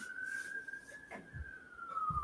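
A faint siren wails steadily in the distance, holding a long sustained tone beneath low background noise.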